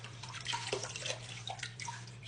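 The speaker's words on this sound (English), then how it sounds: "We're just gonna try to rinse this off, get some of that sludge off." Water splashing and dripping as sludge is rinsed off an aquarium hang-on-back filter in a bucket of water, with steady close sloshing and trickling throughout and a low hum beneath.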